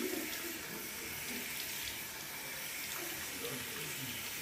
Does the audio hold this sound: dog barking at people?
no